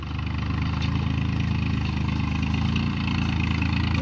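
Tractor engine running steadily in second gear while working in a field, a dense continuous low diesel rumble held close and loud throughout.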